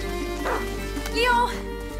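A hunting dog barks in the video game A Plague Tale: Innocence, a couple of short yelps heard faintly amid a low steady hum and game ambience, with a voice also present.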